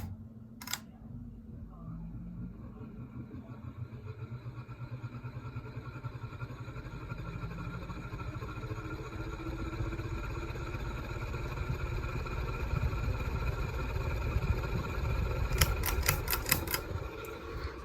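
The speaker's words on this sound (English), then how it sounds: "I wanted to show you guys that speed up noise that it makes" A CEC Georgian ceiling fan motor, a 2021 remake, whirs as it spins up, a low humming drone that slowly grows louder and steadier, heard close, with a sharp click near the start and a brief rattling burst near the end.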